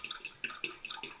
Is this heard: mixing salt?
yes